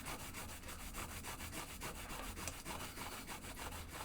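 A green scrubby pad rubs back and forth over the parts of a 1972 Williams Superstar pinball playfield, a steady rhythmic abrasive scratching in quick, even strokes, close and continuous.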